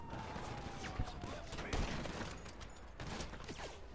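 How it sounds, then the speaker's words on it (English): Gunfire in GTA Online, including a sniper rifle shot, heard as several sharp cracks amid busy game noise at moderate volume. "I just got a massive sniper shot, dude."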